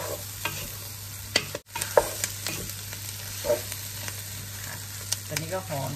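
Curry for a sausage curry is stir-fried over high heat in a pan: a steady, fairly quiet sizzle with repeated scraping strokes of the utensil and a low background hum, with no talking.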